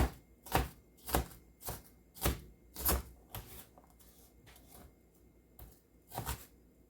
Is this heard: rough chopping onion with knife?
yes